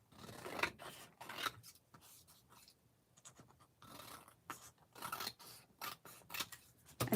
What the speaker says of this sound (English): take a scrap of paper without measuring and just line it up to your card base. And you could cut it like this.